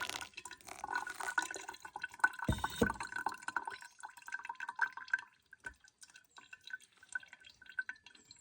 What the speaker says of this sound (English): This hot extraction method we call pour over.